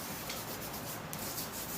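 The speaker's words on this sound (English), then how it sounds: "rub it into the block of wood there, and then we'll go to the piece" Furniture wax being rubbed by hand into a block of painted wood, a steady close scrubbing swish that keeps going with no pauses and no talk.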